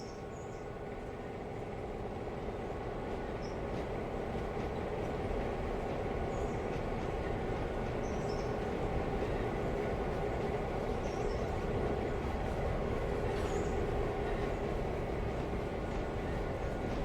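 A Blue Ridge Western Railroad freight train passes in Sylva, a steady low rumble and clatter of rolling cars that builds slightly and holds at moderate loudness.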